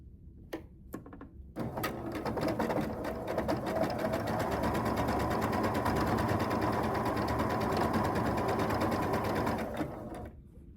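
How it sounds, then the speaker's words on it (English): A sewing machine stitches a quarter-inch seam along one side of quilt blocks, running steadily for about eight seconds after a few brief starts, close and fairly loud with no talking. "I'm going to just feed them through the machine, and I'm going to sew 1/4 inch down one side of each one"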